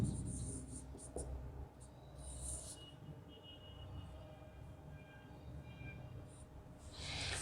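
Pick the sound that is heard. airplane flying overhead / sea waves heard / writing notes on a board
writing notes on a board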